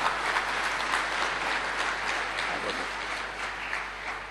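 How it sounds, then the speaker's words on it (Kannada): An audience applauds after a speech at a gathering, a dense, sustained wash of many hands clapping that holds fairly even and slowly eases off across a few seconds. "ದಯಮಾಡಿ ನನ್ನ ಛಾಯಾಗ್ರಾಹಕರ ಎಲ್ಲ ಸಂಘದವರಿಗೆ ಒಂದಿಷ್ಟು ಜೋರಾಗಿ ಚಪ್ಪಾಳೆ ತಟ್ರಿ"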